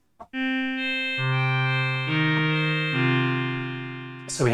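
A sustained synthesizer pad from an Arturia MiniFreak holding layered chords that shift a few times, smooth and continuous, with a brighter swell near the end.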